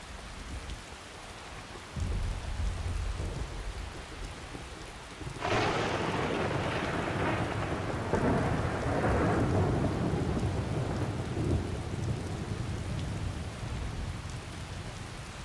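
Thunderstorm with rain in the video game Skyrim: steady rainfall throughout, then a loud, near rolling thunderclap breaks in partway through and rumbles on under the continuing downpour.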